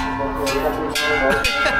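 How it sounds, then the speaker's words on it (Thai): A temple bell at a Thai hilltop temple, Wat Khao Din in Suphanburi, is struck repeatedly, giving sustained ringing tones with several fresh strikes about half a second apart, close and loud, while people talk over it. "ตีระฆังเต็ง ๆ"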